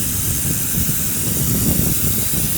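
Continuous loud hissing spray of water from a Karcher pressure washer with a booster nozzle, steady and close, with no voices.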